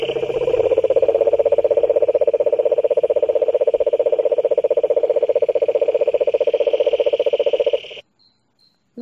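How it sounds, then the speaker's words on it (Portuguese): Male frogs and tree frogs croaking in a dense, rapid pulsing chorus that holds steady and loud for about eight seconds before cutting off abruptly. "Os sapos, as rãs e as pererecas machos coacham para atrair as fêmeas."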